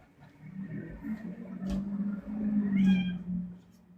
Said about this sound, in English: Hold on, my cat is being weird.